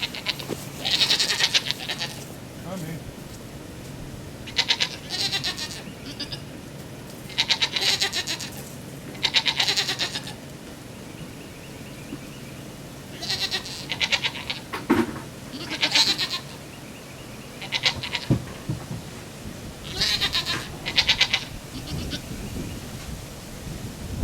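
Goats bleat loudly in repeated bursts every few seconds, several calls overlapping at times, with quiet outdoor background between them.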